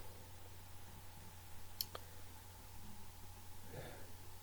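Mouse clicks while working in CATIA V5 software, one or two faint, sharp clicks over a low steady hum, quiet and close with no speech.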